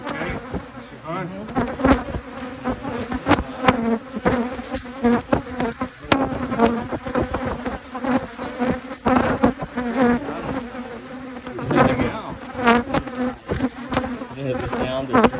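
Bees buzzing at a beehive, a dense, close swarm drone with individual insects whining past the microphone in passes, steady and fairly loud with no talk.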